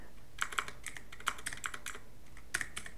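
Quiet, close clatter of fingers typing a command on a computer keyboard, a quick irregular run of light key clicks with a couple of sharper presses, heard alone.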